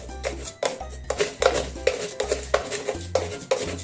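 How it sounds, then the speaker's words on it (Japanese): A spoon stirs homemade koji curry roux, made without oil or additives, in a bowl, giving quick clinks and scrapes in an uneven rhythm at close range, with a low hum underneath. "ちょっと手が届かないのでスプーンで混ぜてます。"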